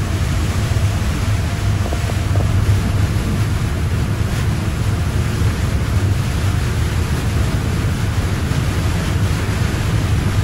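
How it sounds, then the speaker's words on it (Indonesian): Heavy rain pounding on a moving car during a highway drive, heard from inside as a dense, loud, continuous hiss and roar with road rumble underneath. "Wih, hujannya mantap."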